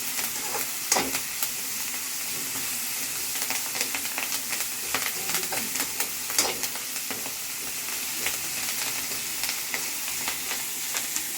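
Curry leaves frying in a pan, a continuous bright sizzle and crackle with occasional stirring scrapes, close and steady, without speech.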